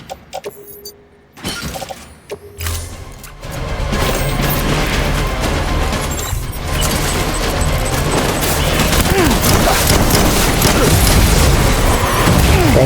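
Pump shotgun fire in Death Stranding: a few sharp mechanical clacks and shots, followed by a loud, sustained barrage of blasts, crashes and rattling that runs on densely to the end.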